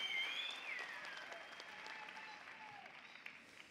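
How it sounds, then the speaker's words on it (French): A studio audience applauds a guest on a French television program, a soft, steady patter of clapping that slowly fades, with a faint whistle-like tone near the start. "on peut l'applaudir"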